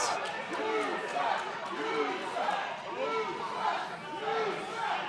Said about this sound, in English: the crowd here at BullShooters telling Daniels what they think of him